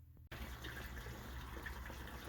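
Water from a faucet at a Red Sulphur Springs property gushes out of a hose in a steady, full rush that starts abruptly after a brief quiet moment and continues unbroken, with no voices.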